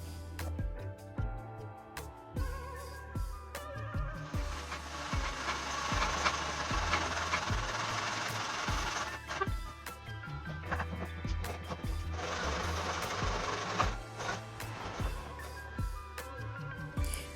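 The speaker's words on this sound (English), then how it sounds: "I will be using my miter saw box to cut this" A hand saw in a miter box cutting a piece of wood, two long stretches of steady rasping back-and-forth strokes close by, with knocks and clunks before, between and after.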